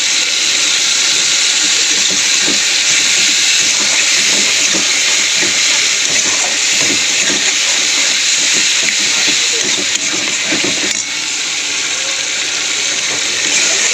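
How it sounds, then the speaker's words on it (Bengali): Onion with ginger-garlic paste and spices fries in hot oil in a pan, a loud continuous sizzle and hiss that holds steady throughout with small crackles and bubbling underneath. "মশলাটা ভালো করে তেলের সঙ্গে ভেজে নেব।"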